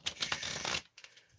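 A deck of red and black playing cards riffled together in a close, crisp shuffle, a fluttering burst of card edges for most of a second, then a brief pause and a softer tap as the cards settle.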